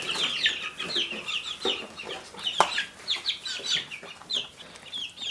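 Young ducks packed in a cage peep and chatter in quick, scattered bursts, a busy run of small calls close by with no talking.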